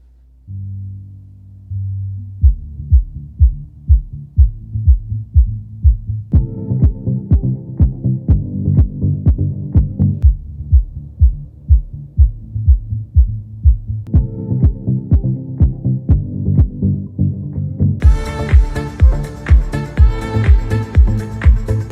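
Deep, booming bass pulses from a studio subwoofer pound in a steady beat, growing fuller with added higher tones toward the end; no voices.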